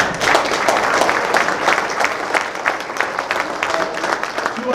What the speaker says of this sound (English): A round of applause for those guys.